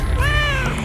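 A cat gives a single short meow, close and clear, rising and falling in pitch over a low background rumble.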